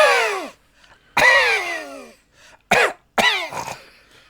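A voice imitating a cinema patron's loud open-mouth coughing: four harsh, wet coughs spaced about a second apart, each loud and close with a rough, raspy tail, separated by near silence.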